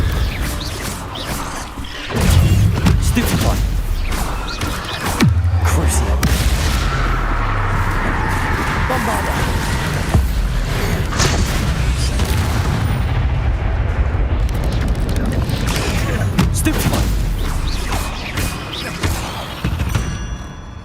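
A Bombarda explosion spell cast in combat in Hogwarts Legacy, fought against a dragon: loud, dense booms and crashes that run almost without a break, mixed with mechanical creaks and clatter from the battle.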